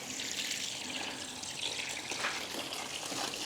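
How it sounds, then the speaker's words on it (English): Warm water gushes steadily into a bucket for a car wash, a continuous splashing rush at close range, even in level throughout, with no talking. "Let's get this bucket loaded with some nice warm water"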